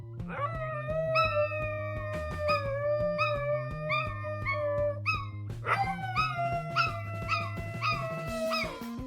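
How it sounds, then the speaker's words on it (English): A small Chihuahua howls in long, wavering, pitch-sliding calls that break into yips, loud and close, in two sustained runs with a brief pause between them. "a tiny Chihuahua who learned to howl because he loved his brother so much that he"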